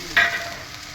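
Spice paste of ginger, cumin, chili and tomato hits hot oil with a splash of water for a fish curry, giving a sudden close hiss that peaks briefly and then settles into a steady, quieter sizzle.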